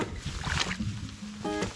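Rubber boots wade through a ditch in wet ground during a fishing hike in Norway, with several close sloshing and splashing steps in water, and a brief squeak near the end, alone without talking.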